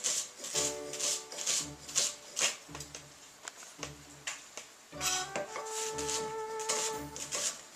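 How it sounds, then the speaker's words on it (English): A knife chops vegetables for steak fajitas on a cutting board in quick rhythmic bursts, with a sharp tap on every stroke and brief pauses between runs. It sounds close and moderately loud, with no talk. "Cutting up these vegetables, and then I'm going to put them in the pan."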